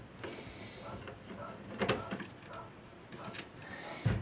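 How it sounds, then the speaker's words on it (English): A screwdriver turns screws on an HP thin client, giving close, quiet mechanical clicks and scrapes, with sharper metallic ticks in a few spots. "Let's find out if the screwdriver will work with these screws."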